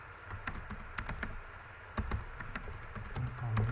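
Rapid, irregular keystrokes on a computer keyboard, close and fairly clear, with a brief louder cluster near the middle and no talking, entering data into an Excel spreadsheet.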